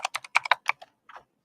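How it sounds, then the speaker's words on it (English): Quick typing on a computer keyboard, a rapid burst of about ten crisp clicks followed by a short pause and two more taps, close and clear with nothing else audible. "Is that you tapping away on your keyboard?"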